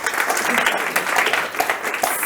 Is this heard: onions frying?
no